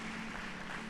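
A church congregation applauds, a dense, steady wash of clapping that fills the whole brief moment, moderately loud and even, with no voice on top.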